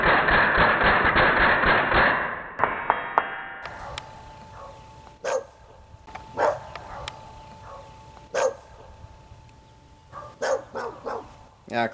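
Neighborhood dogs bark in short scattered outbursts, some close and some farther off. They follow a loud rattling burst of fire from a full-auto air rifle that stops early on, and a faint steady hum runs underneath.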